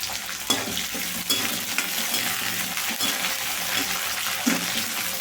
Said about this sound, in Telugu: ఉల్లిపాయ మెత్తపడేదాకా వేయించుకోవాలి